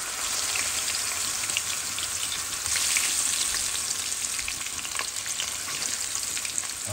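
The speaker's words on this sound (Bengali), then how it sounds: "প্রথমে এটার ভিতরে একটু ইলিশ মাছটাকে ভেজে নেবে" Hilsa fish frying in oil, a steady, close, dense sizzle with fine crackling spatters throughout, no voices.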